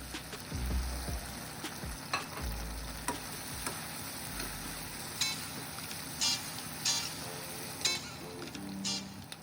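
Onions, garlic and tomato paste frying in a pan over high heat, a steady broad sizzle running throughout with occasional clinks and stirring scrapes.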